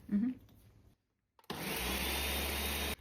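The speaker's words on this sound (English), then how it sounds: "Emily's in here making another smoothie, her daily smoothie" A blender making a smoothie roars steadily for about a second and a half after a short pause that follows brief talk.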